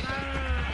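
A sheep in a video game bleats once, a short, close, wavering cry that fills the brief moment alone.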